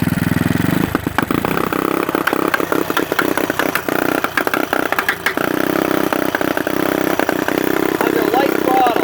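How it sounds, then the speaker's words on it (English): A 150cc engine runs under light throttle, a loud, continuous buzzing drone with rapid pulsing and small surges in revs. Talk runs over it throughout. "I'll give it some throttle, but you'll see it might spin the tires."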